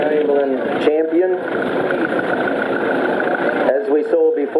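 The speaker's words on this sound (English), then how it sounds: "Here's another one, and they were a champion tractor." A Chamberlain Champion tractor engine idles with a steady mechanical chug, close and continuous, while someone talks over it at the start and end.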